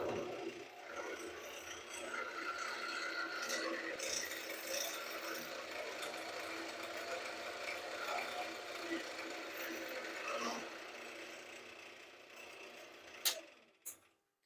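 A Central Machinery lathe runs at its slowest speed on a variable pulley, giving a steady whirring mechanical drone with faint rubbing, close and continuous, then a couple of sharp clunks as it winds down at the end.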